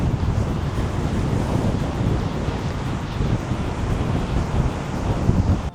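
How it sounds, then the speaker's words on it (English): Big, heavy ocean surf rolls and crashes continuously on the shore near Fuerteventura airport, a steady loud roar mixed with gusty wind buffeting the microphone, with no one talking. "We'll have to go and have a look at these waves first while we're waiting, because they are monsters"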